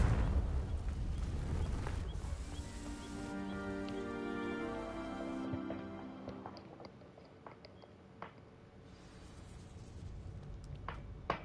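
Fire spell Confringo in Hogwarts Legacy setting dry vines alight: a whooshing burst at the start gives way to crackling, hissing flames and faint tonal magic shimmer that fade over several seconds, with scattered small pops near the end.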